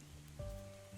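Soft rain patters quietly in the video game At Winter's End, a faint steady hiss of drops under a few sustained tones.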